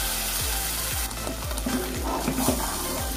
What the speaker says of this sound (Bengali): খুব ভালো করে নাড়িয়ে আমি মিশিয়ে নিচ্ছি।